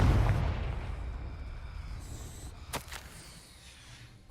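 A fire-blast spell from Hogwarts Legacy erupts in a loud, rumbling explosion at the start and then rolls off into a long fading roar, with a sharp crackle near the end.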